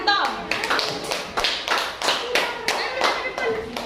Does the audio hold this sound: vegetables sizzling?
no